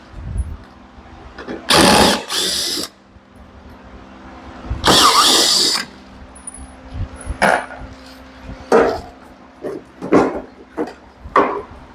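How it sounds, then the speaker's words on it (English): A cordless electric screwdriver, used during a truck teardown for an 8.1 Vortec engine swap, whirs in two short, loud bursts close by, followed by scattered clicks and clunks of work. "Electric screwdriver. Makes life a lot faster."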